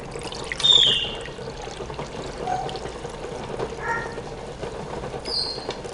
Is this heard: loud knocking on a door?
no